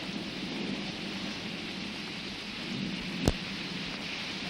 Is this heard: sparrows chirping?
no